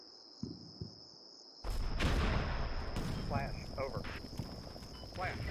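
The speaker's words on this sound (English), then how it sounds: "Here we got some poor buggers in a trench who are now being machine gunned quite heavily" Heavy machine-gun fire rakes a trench in Combat Mission Shock Force 2, bursts of loud rattling shots that kick in abruptly after a quiet start, with someone talking over the gunfire.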